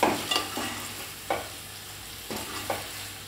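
Pea and chicken curry masala stirred in a pan, with a spoon scraping several times in uneven strokes over a soft, steady sizzle, close and fairly quiet.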